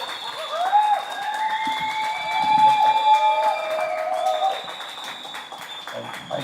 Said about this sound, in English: I hear we have quite a rowdy and appreciative crowd in the background